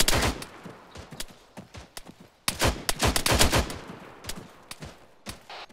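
Gunfire in the military video game Arma 3, with rapid bursts of loud, close shots cracking in quick clusters, briefly thinning out and then returning in dense volleys.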